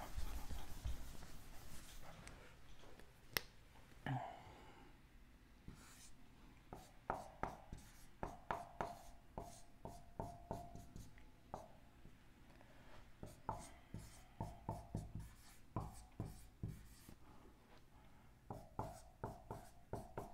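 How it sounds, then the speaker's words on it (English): Someone writes an email address by hand on a board, producing faint, scratchy strokes in irregular bursts against a quiet room. No one speaks. "I'll write my email here."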